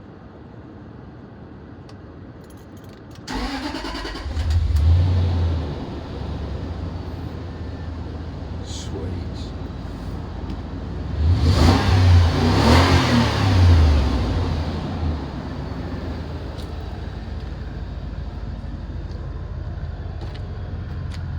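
A Range Rover L320 with 75,990 miles, being rebuilt after a crash, cranks and starts, then idles and is revved hard twice, loud and close, with one brief spoken word.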